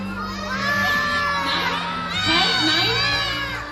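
A crowd of children in a bird show audience shouts out numbers together in a loud, overlapping burst that rises and falls in two waves.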